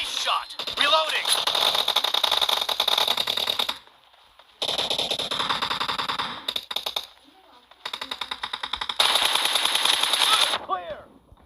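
Automatic gunfire in a shooter video game rattles in long rapid bursts separated by short pauses, with metallic reload clicks and game voices in between.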